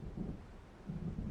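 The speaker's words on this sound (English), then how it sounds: "It seems there's a storm coming." Low, rumbling thunder from an approaching storm in the video game Alan Wake Remastered, rolling in two swells over a steady dull background, with no voices.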